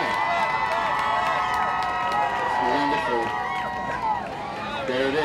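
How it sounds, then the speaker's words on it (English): Crowd applause and cheering at the unveiling of a giant commercially sold hamburger, a steady roar of clapping and whoops with voices calling out over it throughout. "Round of applause, ladies and gentlemen."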